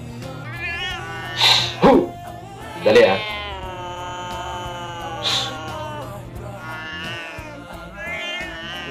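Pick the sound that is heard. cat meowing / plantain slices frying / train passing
cat meowing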